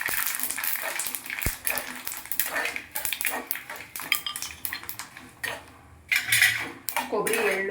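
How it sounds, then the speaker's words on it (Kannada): Spoon scraping and clinking in a pan as coconut, sesame, fenugreek and coriander seeds dry-roast for a bitter gourd palya, with irregular metallic stirring strokes close by and no talk. "ಕೊಬ್ಬರಿ, ಎಳ್ಳು, ಮೆಂತ್ಯಕಾಳು, ಧನಿಯಾ ಅವೆಲ್ಲ ಹುರಿತಾ ಇದ್ದೀನಿ."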